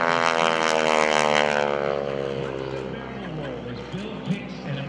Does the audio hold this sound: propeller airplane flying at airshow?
yes